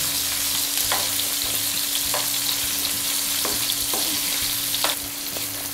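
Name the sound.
stuffed bitter gourd frying and being stirred in a pan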